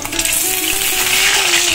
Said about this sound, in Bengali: দেখো হাঁসের ডিম ছাড়িয়ে দেখো ভাজা করতে দিয়ে দিয়েছি আমি